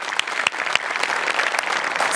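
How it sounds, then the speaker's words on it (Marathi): A studio comedy show audience claps steadily, a dense, lively burst of applause filling the room throughout. "जोरदार टाळ्या."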